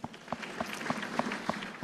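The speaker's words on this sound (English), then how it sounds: "Please give yourselves a round of applause." At the 43rd Botswana Sport Awards ceremony, faint, scattered handclaps sound from a sparse audience, individual sharp claps landing in a loose, uneven rhythm rather than a full ovation.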